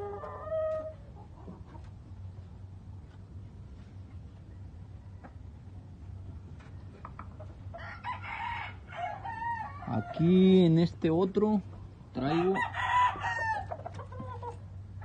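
Someone speaks briefly near the start, then close clucking and loud rooster crows from gamecocks ring out in bursts over a steady background hum.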